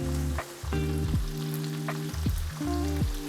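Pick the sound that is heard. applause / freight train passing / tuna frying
tuna frying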